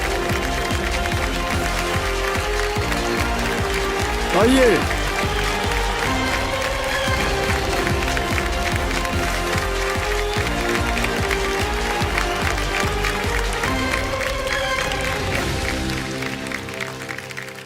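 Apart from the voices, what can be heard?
studio audience applause welcoming KBC contestant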